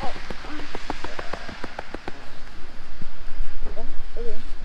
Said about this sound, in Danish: Det regner.